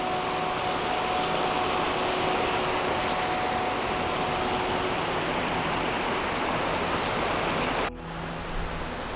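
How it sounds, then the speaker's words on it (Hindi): A fast-flowing jungle stream rushes along a mountain trekking trail, producing a loud, steady broadband roar of water that continues unbroken until an abrupt cut near the end. "ये पानी की आवाज़"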